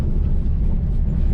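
A 1966 Chevrolet C20 custom camper truck rolls to a stop, its low engine and road rumble steady and close throughout, with no distinct brake squeal.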